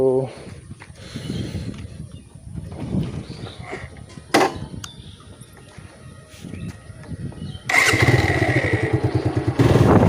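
A motorcycle engine hums steadily on a village ride, then revs up louder near the end, while a person talks over the ride.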